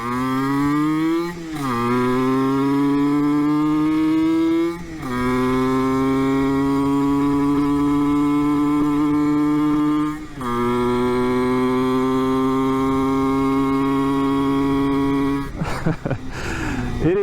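A Yamaha TZM50R's 49cc liquid-cooled two-stroke engine with an aftermarket pipe runs loud and close, holding a raspy, buzzing drone with three sharp blips of revving and a final burst near the end, with no talking.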